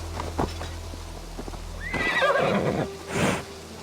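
A horse in the video game Assassin's Creed Valhalla whinnies loudly twice over a low background hum, with a few faint hoof clops before the neighs.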